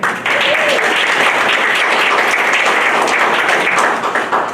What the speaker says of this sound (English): can we just have a huge round of applause for all of you who came out in this weather?